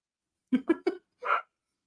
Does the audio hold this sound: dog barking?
yes